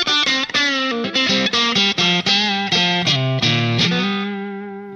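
Guitar through a Line 6 Pod HD500 Fender Deluxe Reverb vibrato amp model with sag set to 50%, playing a quick run of plucked notes and chords that ends on a sustained chord fading out; loud and close, with no voice.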